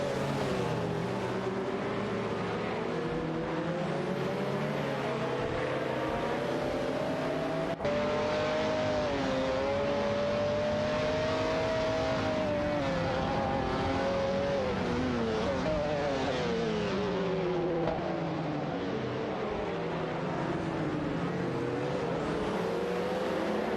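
Race cars in a racing video game, engines whining and shifting pitch as they jostle and overtake one another, a continuous layered drone with revving rises and falls throughout.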